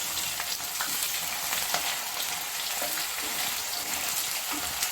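Urad dal, mustard seeds, cumin and cut onion frying in oil give a steady, close crackling sizzle with scattered pops and no voices over it.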